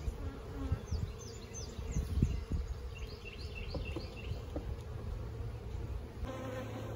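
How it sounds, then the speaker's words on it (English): Honey bees gather around spilled honey during honey extraction, buzzing in a close, busy drone that hums throughout, with individual insects rising and falling in pitch as they fly near. "You can see bees are gathering around to enjoy it."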